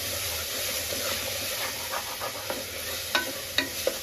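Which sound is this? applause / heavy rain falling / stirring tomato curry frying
stirring tomato curry frying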